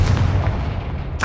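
Confringo fire blast spell cast in Hogwarts Legacy, a loud booming burst at the start that decays over about a second, followed by a brief bright crackle near the end.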